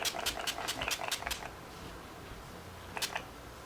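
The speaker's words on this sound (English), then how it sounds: "I'm going to just spray my face." Makeup setting spray misted onto a face to set highlighter and balm, heard as a quick series of close, short hissing pumps, then a pause and one more spritz.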